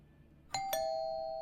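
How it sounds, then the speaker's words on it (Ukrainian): A two-tone electronic doorbell in the video game Fears to Fathom: Home Alone chimes once, ding then dong, with the second note ringing on cleanly over quiet background. "Дзвінок."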